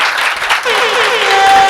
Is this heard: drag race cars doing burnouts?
no